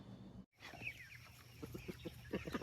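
Chickens cluck and chatter close by in a busy flock, soft repeated clucks rising toward the end, with no talking.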